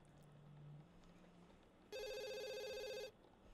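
A telephone rings in The Sims 2, a single loud electronic ring burst of about a second standing alone after a quiet stretch of game ambience.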